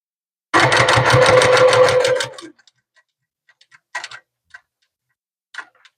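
A sewing machine top stitches through the layers of a kitchen towel in one loud, steady burst lasting under two seconds, then stops. A few light clicks and taps follow in near silence.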